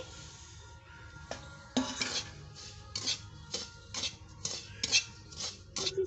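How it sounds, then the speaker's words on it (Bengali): Fried semolina stirred into a tempering of ghee, dry chillies, cinnamon, cardamom and cloves in a metal pan, with repeated scraping and clinking of a spoon against the pan in an uneven rhythm, close and moderately loud. "ওই ফোড়নের মধ্যে ভেজে রাখা সুজিগুলোকে ঢেলে দিচ্ছি"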